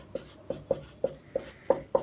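A pen taps and scratches out a label for a beaker holding a piece of wood, seven or so short, distinct strokes in an uneven rhythm, close and quiet with no talking.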